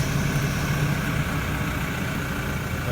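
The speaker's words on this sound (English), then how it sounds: "Let's start the engine on this vehicle." A vehicle engine runs at a steady idle, a constant low rumble with an even mechanical hum holding level throughout, close and alone with no voices.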